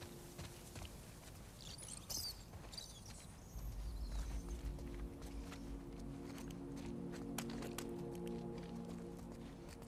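Footsteps in the video game The Last of Us Part II: faint, irregular steps under a low ambient hum, with scattered clicks and a brief rustle, the walking growing a little busier midway.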